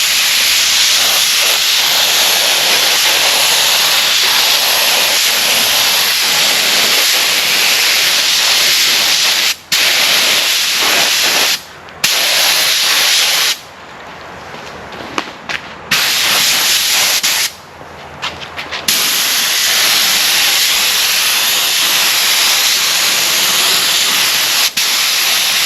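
A spray gun hisses steadily and loudly as gelcoat goes onto fiberglassed plywood, with several brief pauses and trigger releases breaking the continuous spray.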